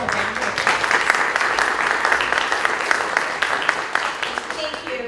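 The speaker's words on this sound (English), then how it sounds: "Please give them all a round of applause." An audience at a regional planning workshop applauds, a dense, steady burst of many hands clapping, close and fairly loud, holding evenly across the whole stretch.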